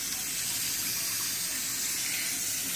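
Steady rush of tap water running as a chihuahua is rinsed in her bath, close and continuous with no pauses.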